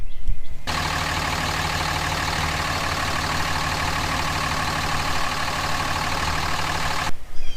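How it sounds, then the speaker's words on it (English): A pickup truck engine cranks over and settles into a steady, loud idle with a deep low rumble, held constant for several seconds before cutting off near the end, no voices heard. "I'm gonna go crank the truck up"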